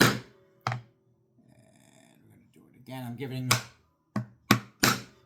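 A hammer striking a chisel while chopping out the pins of a wooden desktop organizer: about six sharp, close wooden thunks, one early, then a quick cluster near the end, with someone talking between them.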